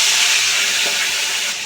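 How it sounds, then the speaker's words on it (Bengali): Fish heads dropped into hot oil in a wok give off a loud, steady hiss that fades slightly toward the end, close up and with no talking. "এবার আমি মাছের মাথাগুলো একটা করে দিয়ে দেবো"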